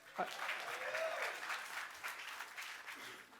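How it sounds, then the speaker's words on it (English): Audience applause at an augmented reality expo, a crowd clapping steadily at moderate distance, with a voice briefly cutting in near the start. "That's okay, you can applaud."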